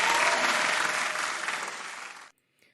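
Hand claps of applause from a group, a dense, loud burst of clapping that holds steady, gradually thins, then cuts off abruptly to near silence.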